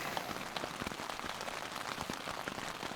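Heavy rain drums steadily on the fabric of a Big Agnes Tiger Wall UL2 ultralight hiking tent, heard from inside as a dense, even patter with scattered louder drops and no voices.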